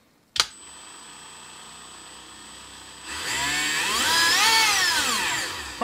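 A Ryobi rotary tool gives a sharp click and a thin high tone. Then its motor spins up into a loud, close whine that rises and dips in pitch before settling.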